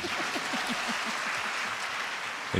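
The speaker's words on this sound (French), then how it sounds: "Applaudissements." Clapping from a conference plenary audience, a sustained even patter of many hands with a faint voice murmuring underneath and a brief louder burst near the end.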